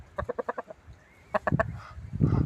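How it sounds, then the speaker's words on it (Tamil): A red-and-black rooster and chickens cluck close by, a quick run of about six sharp clucks, a short pause, then another quick burst that ends in fluttering and scuffling. "இதுதான் நல்ல சேவல் சொல்லலாம்"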